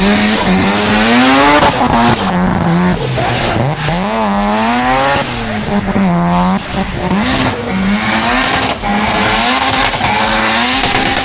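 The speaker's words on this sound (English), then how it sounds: "This drift taxi has 420 horsepower from a 13B twin-rotor engine" A Mad Mike drift taxi's 420-horsepower 13B twin-rotor engine revs loudly up and down, close by, with continuous wavering pitch and hints of tyre squeal throughout.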